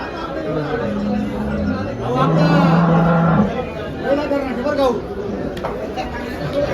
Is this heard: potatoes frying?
no